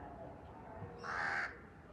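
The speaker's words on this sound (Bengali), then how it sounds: "ওই দেখ কাকে ডাকছে" A single crow caws once near a house, a short harsh call standing out briefly over a quiet background hush.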